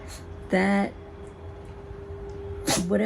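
Two short sneezes, one early and one near the end, each a loud breathy burst over a quiet steady hum.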